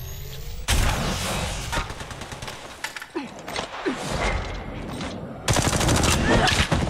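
Rapid bursts of automatic gunfire in the mobile battle royale game Apex Legends Mobile, with loud sustained volleys at the start and end and scattered shots between, over game ambience.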